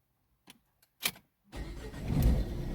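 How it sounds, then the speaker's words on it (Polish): A Renault Grand Scenic 2 with the 1.5 dCi diesel engine starts up after a few faint clicks, the engine catching abruptly and settling into a loud, steady rumble nearby. "Wkładamy kartę sprzęgło, start."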